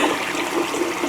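Water runs steadily from a tap while something is rinsed off, a continuous close rushing hiss with no voices.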